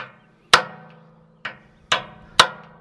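A hammer strikes a tight fitting on a line of a broken-down John Deere four times, each a sharp, close metallic blow with a ringing decay, spaced unevenly with quiet gaps between.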